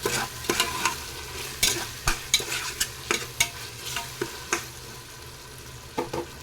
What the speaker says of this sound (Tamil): கொஞ்சம் சீக்கிரமாக வதங்கி சாஃப்ட் ஆகும் தக்காளி.